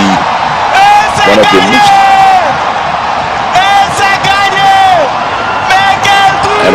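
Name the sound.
home crowd chanting Ghana at athletics stadium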